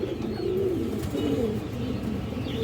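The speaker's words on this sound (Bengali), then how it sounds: "এই দেখেন বুট ঠোঁটের কবুতরটা" A Gorra female pigeon with a boot-shaped beak coos in a low, repeated rolling call, close and clear, with a few soft background noises and no talking.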